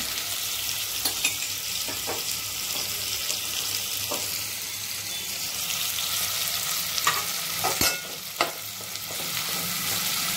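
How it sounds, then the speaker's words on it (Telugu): Ginger and garlic fry in a hot pan, producing a loud, constant hiss with a few spatula taps and scrapes scattered through, heard alone without speech. "ఇదైతే ఫ్రై చేసేద్దాం మంచిగా. ఇందులో కాస్త అల్లం వెల్లుల్లి కూడా వేసుకుందాం."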